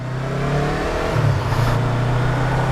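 A Yamaha R25 motorcycle engine that had been sputtering is cranked and revved, a loud close engine drone rising in pitch over a few seconds.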